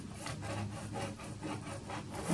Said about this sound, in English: I'm then just going to drag across there with my palette knife